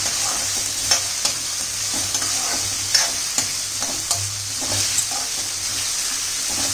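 Chopped onions frying in a pan for kadhi pakora, with a loud continuous sizzle and repeated spatula scrapes and knocks as they are stirred, close up with no voices.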